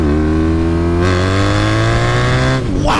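The 1200 cc engine of a BMW R nineT motorcycle revs up hard and close, its loud tone climbing steadily through the gears with a brief dip near the end.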